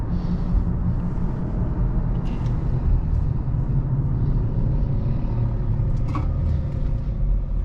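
A 3rd gen Toyota Tacoma truck with a ValleyRunner tune drives steadily, its engine a loud, continuous low rumble mixed with road and cabin noise, heard from inside throughout.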